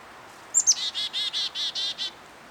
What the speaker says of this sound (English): This bird is right above me.